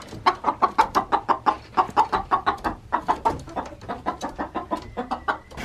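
Guinea fowl and chickens on a farm call in a steady run of loud, close, repeated clucks and cackles that carry on with only a brief pause.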